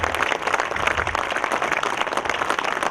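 A crowd at a political workers' gathering claps enthusiastically, with dense, slightly uneven applause that stays loud and close from start to finish and no voices on top.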